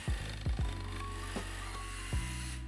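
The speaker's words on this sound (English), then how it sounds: "Then we switched the jigsaw for the crosscut." Jigsaw crosscutting a niangon wood board, with several sharp bursts of cutting noise over a steady motor hum, loud and close, no talking.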